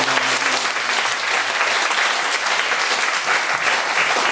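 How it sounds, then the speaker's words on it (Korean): A church congregation breaks into loud, dense applause, many hands clapping together in a sustained burst that fills the room without letup. "그래서 제가 이렇게 박수를 띄웠습니다"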